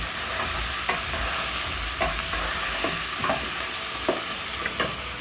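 Pork wet fry stirred in a frying pan, a loud constant sizzle punctuated by roughly eight spaced spatula scrapes, no talking.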